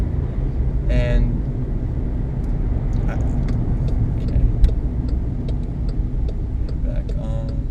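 A Skoda Fabia with a five-speed gearbox cruises on the autobahn in fifth gear, a steady loud road and engine rumble throughout, with small ticks and clicks inside the cabin.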